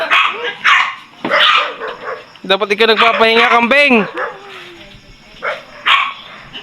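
A dog gives a rapid run of high, yipping barks that rise into a whine, between stretches of nearby conversation.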